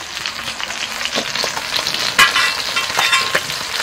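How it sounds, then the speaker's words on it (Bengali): Fish fried in oil with spices, sizzling and crackling steadily with sharp pops and spatters scattered throughout, close and fairly loud. "এই দেখুন সব মাছগুলোই ভাজা হয়ে গেছে"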